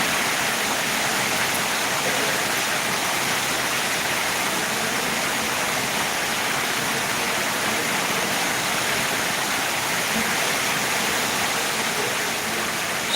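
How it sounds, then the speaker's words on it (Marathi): Heavy rain pours in a dense, steady rush of broadband hiss that holds constant and loud for the whole stretch, with no pauses or distinct drops standing out. "आमच्या इकडे पण भरपूर पाऊस चालू आहे"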